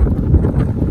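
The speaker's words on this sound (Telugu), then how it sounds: "నా వాయిస్ ఎంతవరకు మీకు వస్తుందనే తెలియదు ఎందుకంటే చాలా చాలా గాలి అయితే చాలా ఎక్కువగా ఉంది" Strong wind at Lonavala Tiger Point buffets the microphone in a loud, low, rumbling gust, brief and unbroken.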